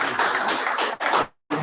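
An audience applauds winners at an African painting and ceramics competition presentation with brisk, dense, close clapping that breaks off briefly and then resumes.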